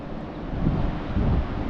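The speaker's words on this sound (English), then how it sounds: "the wind is blowing 50 to 60 miles an hour" Strong blizzard wind gusting at 50 to 60 miles an hour in Iowa buffets the microphone with a loud, steady low roar that surges in two heavier gusts, no voices.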